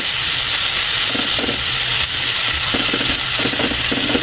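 Food with small shrimp paste frying in a pan for breakfast, a loud continuous sizzle and steam hiss with soft scraping and clinking of stirring underneath.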